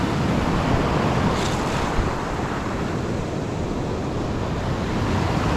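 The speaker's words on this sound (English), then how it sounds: "I'm getting pounded by these waves." Ocean waves pound a rocky basalt shore, a loud, unbroken roar of surf mixed with heavy wind buffeting the microphone, close and constant throughout.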